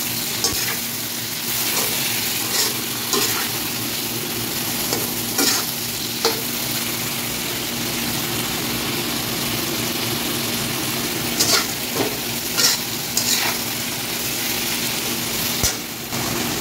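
Cauliflower beef with soy sauce stirred in a sizzling pan, a steady frying hiss under repeated scraping strokes of the spoon, close and fairly loud, no talking.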